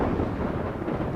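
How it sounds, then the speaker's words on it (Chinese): Thunder rolls as a low, continuous rumble, deep and steady throughout, with no voices over it. "毕竟这天雷也自有用处"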